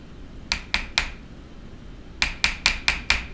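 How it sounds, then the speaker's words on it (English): A goldsmith hammer strikes copper leaf to texture it, ringing metallic taps close by: three evenly spaced blows, a pause, then five more in a quick steady rhythm. "This is how I get the texture, is by using this goldsmith hammer."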